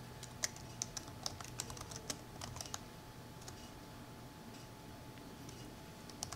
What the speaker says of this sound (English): We can install it by typing